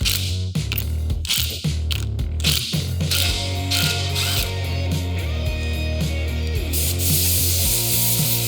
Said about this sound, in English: clamp this thing down in the press and tighten all the ring gear bolts to 81 foot-pound